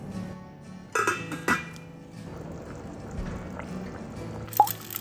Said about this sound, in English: pour in 500 milliliters water and squeeze some lemon juice